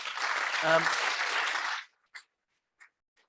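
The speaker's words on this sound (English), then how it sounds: "we can have lots of rounds of applause" An audience at a public talk on Australian life after the 2022 election applauds in a dense burst for nearly two seconds, then stops abruptly into silence broken by a few faint clicks.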